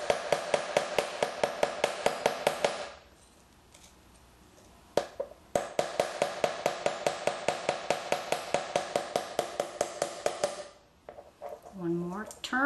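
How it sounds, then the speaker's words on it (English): Chasing hammer texturing a copper disc on a cushioned bench block: quick, even metallic taps in two rapid runs with a short pause between, close and crisp, followed by a faint voice at the end. "Take your hammer and gently hit the metal wherever it needs texture."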